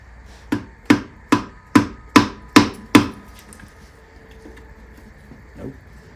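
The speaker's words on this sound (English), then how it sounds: "Might need to Whack it with the hammer." Seven sharp, evenly spaced metallic whacks of a hammer on a 361 big-block V8 engine part of a 1963 Chrysler Newport ring out in quick succession, then stop, leaving low background noise and a faint knock near the end.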